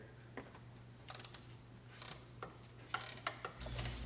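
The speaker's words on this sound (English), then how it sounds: "And this bottom one is going to be a 12mm." A ratchet loosens a 12mm bolt on the engine bracket of a four-cylinder engine with quick, close, faint clicking bursts in short rapid clusters over a low steady hum.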